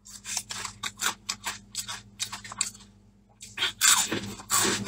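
Crunchy fatty pork is chewed close to the mic in a quick run of crisp bites and crunches, followed by a short pause and a louder burst of crunching.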